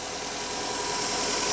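A Subaru Forester 2.5 turbo engine runs steadily after a timing repair, with a dense, loud, close rumble that holds even and rises slightly toward the end.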